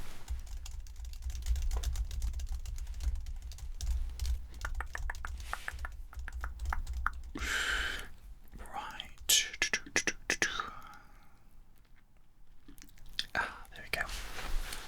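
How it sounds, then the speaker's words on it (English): Close, soft clicking of a computer keyboard being typed on in a quiet doctor's office setting, in bursts of keystrokes, followed by a few quiet whispered or soft-spoken sounds near the end. "let me just type that into the system here."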